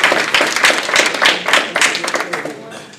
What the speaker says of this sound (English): Let's give Jonathan and Q a wonderful round of applause.